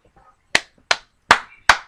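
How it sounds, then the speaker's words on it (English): Four sharp, close hand claps from a single person, evenly spaced in a quick, steady rhythm with quiet between them. "I just had to get a dude a round of applause"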